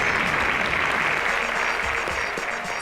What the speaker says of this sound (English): Ladies and gentlemen, please a round of applause to Deborah and Chinaza.